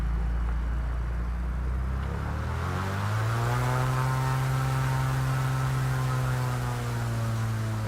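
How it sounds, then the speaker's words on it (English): A Piper PA-28R Turbo Arrow IV propeller plane taxiing over rough ground, its engine a loud, steady close drone that climbs in pitch partway through and then holds an even, buzzing tone. "Having a little taxiing this aircraft here on this terrain."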